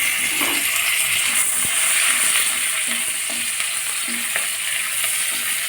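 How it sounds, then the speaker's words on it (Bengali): Capsicum and onion fry in hot oil for chilli prawn, making a constant close sizzle broken by light clinks and scrapes of stirring. "ক্যাপসিকাম এবং পেঁয়াজটাকে একটু ভালো করে তেলের মধ্যে ভেজে নিচ্ছি।"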